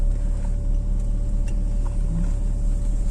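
A Corvette drives along with a steady, loud, low engine and road rumble inside the cabin, continuous throughout, joined by a few faint clicks and no talking.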